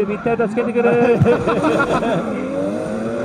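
Drift cars accelerate hard at a Formula Drift Japan event, engine roar and tire noise rising beneath a Japanese commentator talking excitedly over it.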